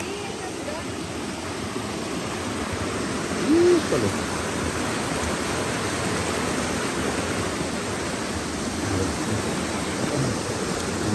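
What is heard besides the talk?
waterfall on the Apulco river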